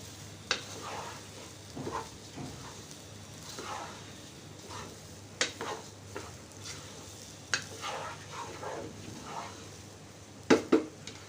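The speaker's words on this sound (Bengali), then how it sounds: "আমি বেশি ভাজবো না, হালকা একটু ভাজা হলেই হয়ে যাবে।" Chicken pieces being lightly fried for a chicken roast give off a soft, steady sizzle, broken by repeated clinks and scrapes of stirring against the pan throughout.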